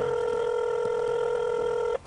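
A telephone rings with one continuous electronic tone that holds steady and loud for about two seconds, then cuts off abruptly, with no voices over it.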